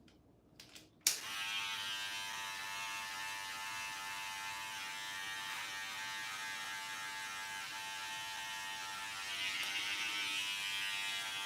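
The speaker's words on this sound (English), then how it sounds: "I'm just shaving, so it's not hard." An electric razor buzzes steadily while shaving head hair, starting after a few faint clicks and running as a continuous close hum with a slight rise toward the end.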